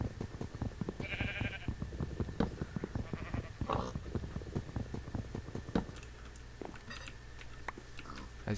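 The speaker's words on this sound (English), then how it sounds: "This is a sheep." Sheep in the Minecraft video game give a couple of brief bleats over a busy background of repeated ticking taps and thumps.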